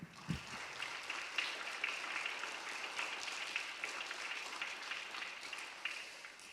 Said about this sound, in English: A round of applause for Sheriff Gray.